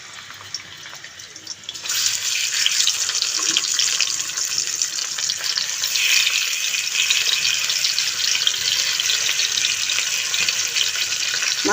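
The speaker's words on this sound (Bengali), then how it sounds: "মাছটা আমি লাল করে ভেজে নেব" Salted fish frying in hot oil in a pan, a quiet start giving way to a loud, continuous crackling sizzle that holds steady for about ten seconds, with no talking.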